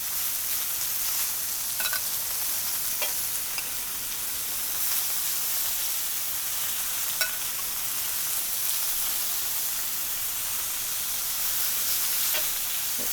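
Meat sizzling on a griddle plate that was preheated in the oven, a continuous close hiss of frying with faint scraping clicks as it is spread around; nobody talks.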